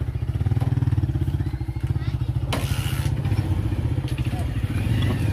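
Motorcycles pass close by with a loud, chugging engine pulse that stays steady for several seconds, joined by clatter and a sharper burst, with voices in the background.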